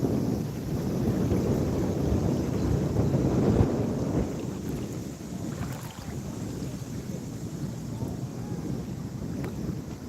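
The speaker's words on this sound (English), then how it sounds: "It's the only boat on the lake that's allowed to have a gas motor." A gas-powered security motorboat drones on a lake, a low steady engine rumble mixed with wind noise, swelling slightly then holding at a constant level.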